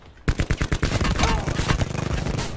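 Rapid automatic gunfire rattles in bursts of closely spaced, loud shots in the video game Blackout, a sustained fusillade lasting a couple of seconds.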